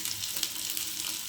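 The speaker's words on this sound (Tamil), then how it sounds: "கடுகு பொரியுது" Mustard seeds splutter in hot oil as tempering for green gram paniyaram, giving a dense, steady sizzle with tiny crackling pops close up and no talking.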